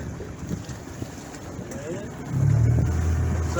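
A boat with a powerful outboard motor runs on open water; wind rushes over the microphone before the engine note rises to a steady low drone near the end.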